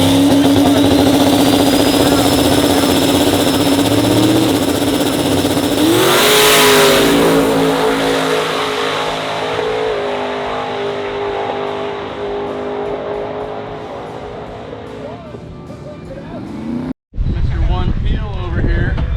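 Big, heavy Chevy Chevelle drag car engine roaring and revving loudly at a drag strip in Orlando, with pitch rising and settling under a sustained engine drone, a brief cut near the end, and people talking over it.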